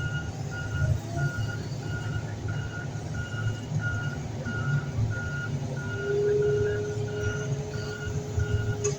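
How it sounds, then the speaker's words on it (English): A truck's reversing alarm beeps steadily at an even rhythm over a deep rumbling engine at a scrapyard, moderately loud and continuous with no talk. "we got a truck coming"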